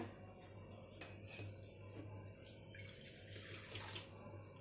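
Water runs and splashes steadily into a kitchen container, a soft continuous pour with a low hum in the background.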